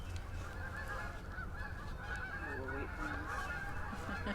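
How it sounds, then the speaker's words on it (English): Geese honking outdoors at a distance, a few faint calls in the middle over a steady low background hum. "Geese."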